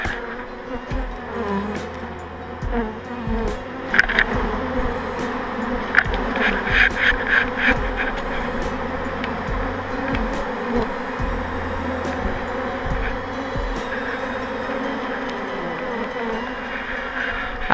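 A honey bee swarm in March hums with a steady, dense buzzing that fills the whole stretch, with individual bees flying close past the microphone now and then.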